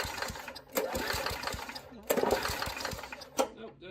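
An old Murray push mower with a 3.5hp Tecumseh engine tries to start and fails, giving short, uneven chugging and sputtering bursts up close, with a voice partly audible underneath.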